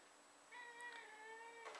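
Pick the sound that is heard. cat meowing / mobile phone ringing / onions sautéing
cat meowing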